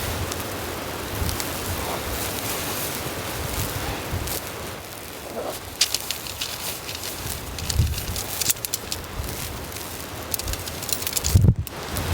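Strong blizzard wind buffets a camera at a snowy winter campsite, producing a constant rough, rumbling roar with gusty surges and brief handling bumps near the end.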